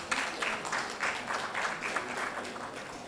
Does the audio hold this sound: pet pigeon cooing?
no